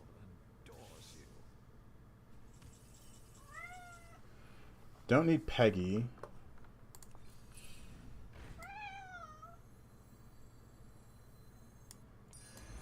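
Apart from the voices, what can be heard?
the streamer's cat meowing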